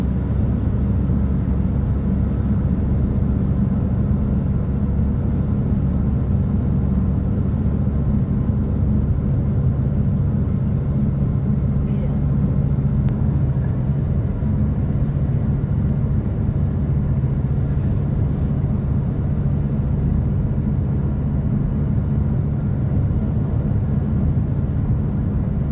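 Steady, loud road and engine rumble from a car cruising on the autobahn in light traffic, a constant low drone that holds for the whole stretch with no talk over it.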